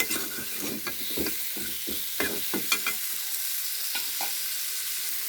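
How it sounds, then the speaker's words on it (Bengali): Potatoes fry in oil seasoned with turmeric and salt, a steady close sizzle with repeated scraping stirs of a spatula against the pan throughout, and no voices. "আলুটা ভেজে নিচ্ছি"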